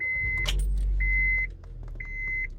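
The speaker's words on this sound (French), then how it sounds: "le bip bip bip, c'est simplement parce que j'ai pas encore mis ma ceinture" Three steady electronic seatbelt warning beeps sound inside a car, evenly spaced over an idling engine hum.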